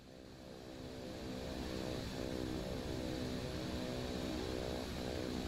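A BlackSquare Beech Turbine Duke's engines in Microsoft Flight Simulator 2024, on a flight from KSMO to KLAS, make a loud, steady turbine drone that swells slightly at the start and then holds without a break.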